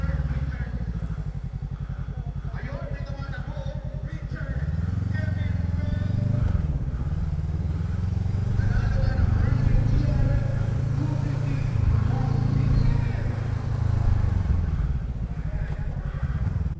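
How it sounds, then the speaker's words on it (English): A 2020 Voge 500DS (Loncin DS7) motorcycle at speed, its exhaust droning loudly and steadily close to the microphone, pitch rising as it accelerates through gears, with wind noise and a rider's voice talking over it. "I love the sound of this exhaust though."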